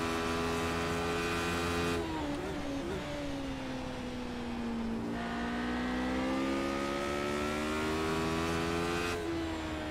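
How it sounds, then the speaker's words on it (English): Engine of a Radical two-seater open-wheel race car in the iRacing sim, a loud continuous drone rising and falling in pitch through shifts and revs, close and steady without talk. "we are currently in the Radical, 2-seater open wheeler"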